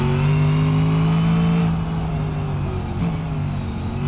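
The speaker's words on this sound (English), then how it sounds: "no reason for a pickup truck to be as fast as this thing is." A pickup truck in BeamNG.drive accelerates hard, its engine a strong sustained drone that climbs in pitch, then briefly dips and picks up again as the truck speeds on.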